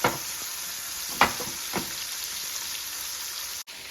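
Prawns frying in a little oil in a pan, a steady broadband sizzle with a few sharp scraping stir strokes near the start, then continuous hiss until a brief cutoff near the end.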